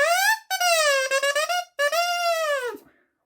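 A bassoon's large double reed, played on its own without the instrument, gives loud, reedy, kazoo-like squawks in a few sliding pitched bursts with short gaps, then stops.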